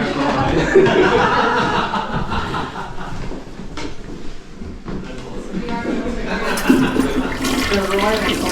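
A royal toilet at Westminster Abbey flushes with a rushing, gurgling surge of water that lasts the whole time. People chuckle and talk over it.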